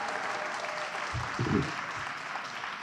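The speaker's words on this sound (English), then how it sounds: "Give yourselves a round of applause." Audience applause at a Black History Month heritage night celebration in Gwinnett County, steady clapping from a large crowd throughout, with brief low voices in the middle.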